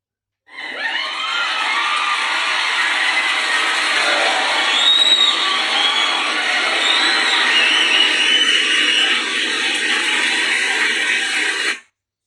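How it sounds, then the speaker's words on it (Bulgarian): An applause sound effect, a loud, continuous wash of crowd cheering, clapping and shouting that starts abruptly, holds steady for about eleven seconds, then cuts off. "Аплодисменти!"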